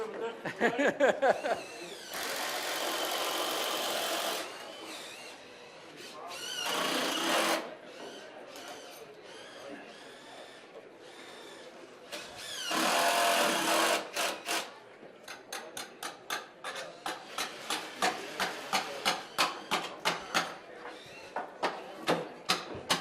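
A power drill bores a pilot hole for a guard post on a building site. Loud, whirring bursts of several seconds each stop and start, then give way to a rapid series of short, rhythmic pulses.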